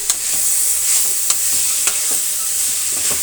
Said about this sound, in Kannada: ಆಗಾಗ ತಿರುಗಿಸ್ತಾ ಇರೋಣ. ಅದರ ಜೊತೆಗೆ ನಾನು ಬೆಳ್ಳುಳ್ಳಿ ಪೇಸ್ಟನ್ನು ಕೂಡ ಸೇರಿಸ್ತಾ ಇದ್ದೇನೆ.